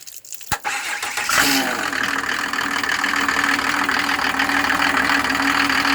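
A new water pump's Mercedes OM603 turbo diesel engine cranks and catches after a brief pause, then settles into a steady, loud idle that runs on without a break.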